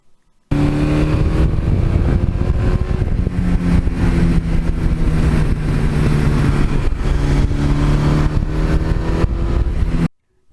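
A 1982 Suzuki GS1100E with an air-cooled engine runs loud and close, its pitch climbing and falling through several revs in a continuous roar before cutting off sharply, with no voices.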